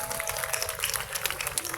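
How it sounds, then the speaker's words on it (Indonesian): A crowd at an outdoor Quran-recitation gathering in the Indramayu town square applauds in a dense, continuous wash of clapping that holds level throughout, with no voices over it. "Tepuk tangan buat kita semua."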